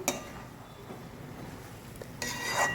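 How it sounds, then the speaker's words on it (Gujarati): Spinach being stirred into a paneer mixture in a pan for Surti paneer ghotalo, a faint, steady scraping and rubbing of the spoon against the pan with a louder burst of stirring near the end. "પાલકને પણ બરાબર મિક્સ કરી લઈશું."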